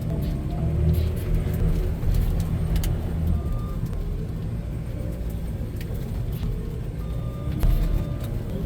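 A John Deere 244L compact wheel loader drives along in gear with a steady, close diesel rumble, which swells slightly now and then.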